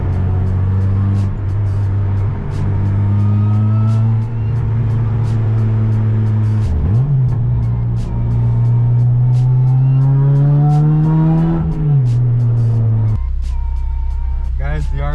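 Tuned Acura RSX engine held at about 70% throttle on a dyno, a loud steady drone with a slowly rising pitch around the middle and a sharp drop near the end.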